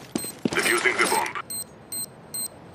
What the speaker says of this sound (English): Defusing the bomb.